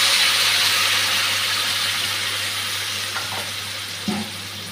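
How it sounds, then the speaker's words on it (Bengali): Water poured into a pan of fried spiced vegetables for boiling, a loud hissing sizzle that gradually settles, followed by a small clink near the end. "জল দিয়ে দিচ্ছি সিদ্ধ হওয়ার জন্য।"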